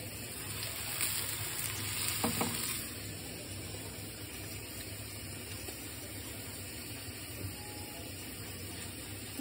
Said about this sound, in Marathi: चला आपली 4 बोंबील झाली फ्राय